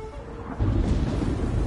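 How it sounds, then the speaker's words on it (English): Thunder in a storm on the video game Ghost of Tsushima rolls in as a deep, heavy rumble that swells abruptly partway through and stays loud and sustained. "The storm is coming."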